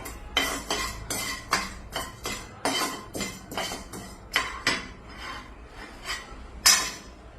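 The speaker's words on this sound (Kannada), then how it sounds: "ಇವೆರಡು ಈಗ ಸ್ವಲ್ಪ ಕಂದು ಬಣ್ಣ ಬರೋವರೆಗೂ ಹುರ್ಕೋಬೇಕೀಗ" Urad dal and chana dal roasting in oil in a pan, with repeated scraping and stirring strokes of a spoon against the metal, about a dozen rasping pulses in steady rhythm, close and moderately loud.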